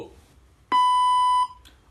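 A single steady electronic beep from a robotic language translator's prompt, loud and clean, lasting under a second, with faint background noise before and a brief click after.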